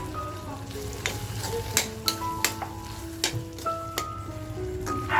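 Butter melting in a pan with finely chopped green chillies for Mumbai-style Irani kheema masala, giving a steady close sizzle dotted with soft clicks over faint background tones.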